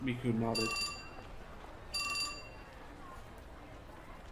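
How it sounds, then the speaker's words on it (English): A short electronic chime from Mirikawa's phone signals an incoming email, sounding twice as brief bright tonal bursts over a quiet background, with a voice speaking just before the first chime. "Just then, Mirikawa's phone chimed."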